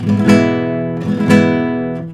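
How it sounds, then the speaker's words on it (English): Two rapid, rolling flamenco rasgueado strums on guitar ring out close and loud, and each leaves a bright chord sustaining between the flurries. "rather than having a rasgueado that sounds something like this."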